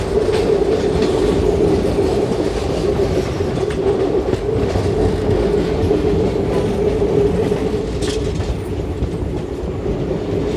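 The Kolhapur–Nagpur Express 11404 rolls around a sharp curve near Akola, a loud continuous rumble with rhythmic clickety-clack of wheels on rail joints and occasional faint wheel squeal, heard close from aboard the train.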